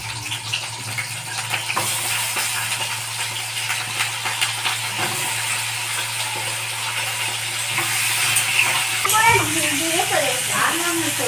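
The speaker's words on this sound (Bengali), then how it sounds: "এবার আমি যে আলুটা কেটে রেখেছিলাম আলুটাকে আমি ভেজে নেব।" Cut potatoes fry in hot oil in a wok, giving a steady, even sizzling hiss over a low hum, with a voice briefly audible near the end.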